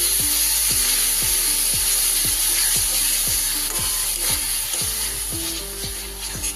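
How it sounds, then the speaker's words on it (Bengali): Tomato paste cooks with spices in a hot pan under a constant sizzling hiss, while a spatula scrapes against the pan in steady rhythmic strokes about twice a second, close and clear, with no voices. "খুব ভালো করে টমেটোটা কষিয়ে নেব যতক্ষণ কাঁচা গন্ধটা না যাচ্ছে"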